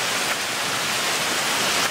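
A steep mountain waterfall in alpine thar and chamois country, a dense continuous rushing roar close by with no pauses or voices over it.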